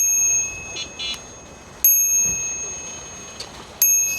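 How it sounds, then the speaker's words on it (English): A bicycle bell rung during an adventure ride to a lion habitat ranch, sounding in a few sharp metallic rings: two quick rings early, then louder single rings near the middle and end, over steady road and wind noise. "Ringing this bell"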